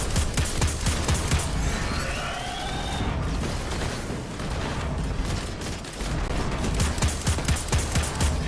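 Rapid full-auto gunfire from a weapon in the video game Destiny 2, a dense continuous fusillade of shots that runs loud and unbroken for the whole stretch with no talk over it.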